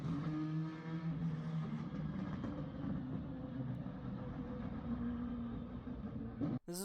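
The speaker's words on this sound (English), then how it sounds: "Here's what it sounds like to switch from an electric motor to a combustion engine in the same car." A car changes over from its electric motor to its combustion engine, giving a loud, steady running drone with harmonic tones that holds throughout, then cuts abruptly near the end.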